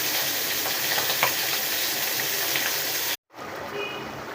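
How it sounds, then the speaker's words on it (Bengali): Pabda fish frying in a pan of oil, giving a steady close hiss of sizzling that cuts out abruptly for a moment near the end before resuming. "এই যে মাছটা ভেজে নিচ্ছি।"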